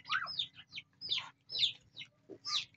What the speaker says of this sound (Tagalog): Tingnan nyo kayo mga pato